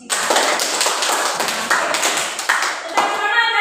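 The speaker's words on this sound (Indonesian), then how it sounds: "Tepuk tangan untuk kelompoknya Ciro." Classroom of students applauding a student group, a loud scattered burst of hand claps close by, uneven and overlapping, with a brief ringing tone and some background voices mixed in.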